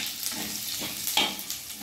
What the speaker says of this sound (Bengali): এবার কালো জিরে ফোড়ন দিচ্ছি মাছ ভাজা তেলেই